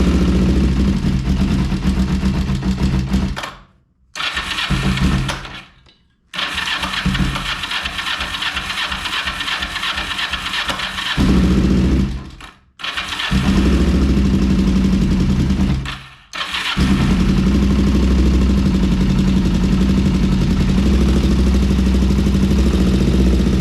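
A 2006 Kawasaki Ninja 500R motorcycle engine cranks and catches several times, cutting out in brief silent gaps between attempts, then settles into a loud, close, steady idle.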